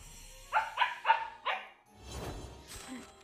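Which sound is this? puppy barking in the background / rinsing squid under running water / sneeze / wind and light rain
puppy barking in the background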